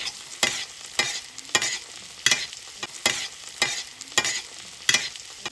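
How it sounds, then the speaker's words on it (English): Potatoes sizzle steadily in a pan over low heat with rosemary, thyme and garlic while being basted, with regular spoon scrapes and splashes about every half second over a constant frying hiss. "And now we're just going to give them a little baste."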